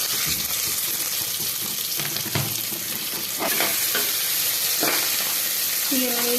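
Medium-size onions sizzle steadily in a hot pan for pulao in a home kitchen, with a constant loud crackling hiss and occasional clinks of a stirring utensil.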